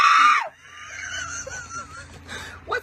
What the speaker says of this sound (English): Quit screaming like a baby